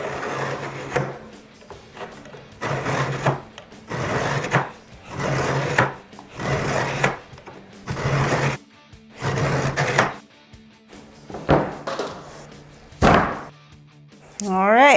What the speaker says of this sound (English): I'm going to line it up and go over it a few times with my scoring knife.